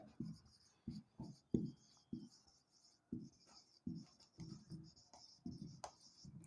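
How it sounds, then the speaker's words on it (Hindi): Chalk or marker taps and scrapes on a board during a chemistry lesson on organic naming. The short strokes come in quiet, irregular bursts with pauses between them, and no one talks. "साइक्लोप्रोपाइल हमने 2 पर लिख दिया"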